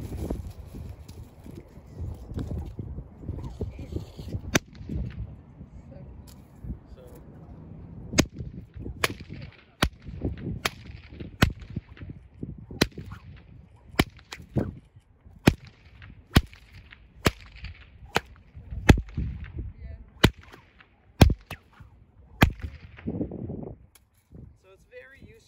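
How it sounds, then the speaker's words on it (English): Sharp cracks of a small karbatsche whip ring out one after another, loud and distinct, spaced a second or two apart over a quieter background. "we'll see with the small whip what it sounds like."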